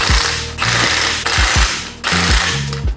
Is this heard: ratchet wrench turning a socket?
yes